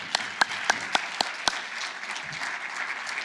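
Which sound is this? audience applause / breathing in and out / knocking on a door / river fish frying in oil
audience applause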